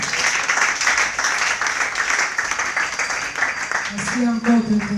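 A church congregation applauds at a French-language couples' teaching service, with sustained claps and cheers blending with voices throughout. A speaking voice rises near the end.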